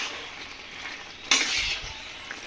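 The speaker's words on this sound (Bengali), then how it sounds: "আমি একটা খুন্তি দিয়ে ভালো করে নেড়ে নিচ্ছি" A spatula stirs jaggery with jujube pickle in a hot pan, a soft continuous sizzle broken by one sharp scrape of the spatula against the metal, quiet and close.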